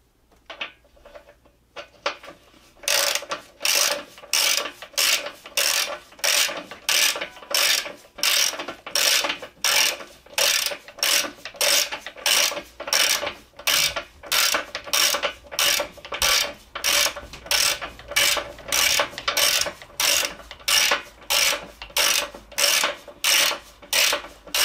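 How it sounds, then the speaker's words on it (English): Yamaha V Star 1300 front axle bolt being turned out with a hand ratchet, giving a long, steady run of loud, close clicking strokes in regular bursts with no talk. "Now, you can go ahead and pull your axle bolt"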